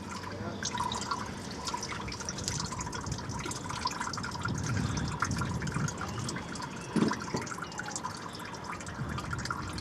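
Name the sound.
coolant draining from Peugeot 207 cooling system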